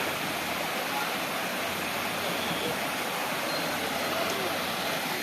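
A waterfall pours steadily in a dense, unbroken roar close by on a Nilgiri hill trek near a temple, filling the whole stretch with no pauses.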